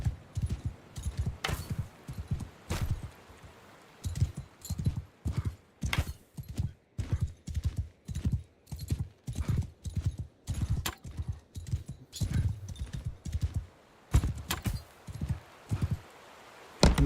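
Horse hooves clip-clop in a fast galloping rhythm in Mount and Blade: Bannerlord, close and steady with brief pauses and an occasional snort or whinny.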